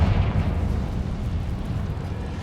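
A Confringo blasting curse explodes in Hogwarts Legacy, a loud, sustained rumbling blast that fills the whole stretch with dense low roar and crackle, no voices over it.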